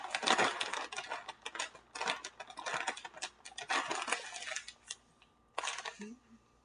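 Small hard seeds pouring and rattling into a container in several bursts, crisp and close, with brief pauses between pours.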